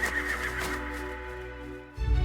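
A horse neighs in a long, high whinny that trails off, followed by a low thump at the end, used as the sound of winged horses playing in a pink and orange sky.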